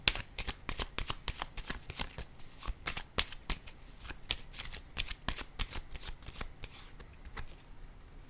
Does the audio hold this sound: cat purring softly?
no